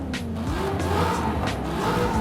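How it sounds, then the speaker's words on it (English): A raw, aggressive video game car engine with no exhaust, a Cadillac CT5 or CT4 Blackwing in Forza Horizon 5, revving up and down in a loud, unmuffled drone, rising and falling in pitch as it accelerates. "So that's what it sounds like without the exhaust."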